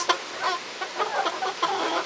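Chickens cluck in short, rapid bursts nearby, a steady stream of fowl chatter with no talking.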